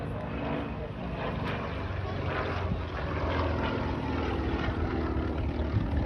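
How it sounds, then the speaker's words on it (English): A Russian propeller aircraft performs at an air show, its steady droning engine and propeller noise continuous and moderately loud, blended with wind and a faint background of crowd or commentary. "the propeller on the Russian aircraft spins backwards compared to aircraft that you'd see built in the U.S."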